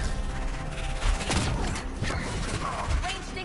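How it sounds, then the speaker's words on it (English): Gatlock cannon fire in the Dragon Age video game: a dense, continuous barrage of booming shots and crashing impacts layered with game music and effects, while voices speak over the din. "Watch yourself. They have Gatlock cannons."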